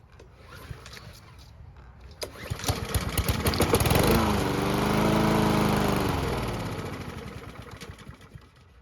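A Troy-Bilt lawn mower, with fuel poured straight into the carburetor, cranks with a few pulls, then its engine catches and roars loudly for several seconds, close up, before winding down.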